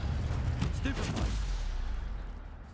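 A Stupefy spell cast in Hogwarts Legacy lands as a heavy, booming burst with a rumbling low-end roar that slowly fades over a few seconds.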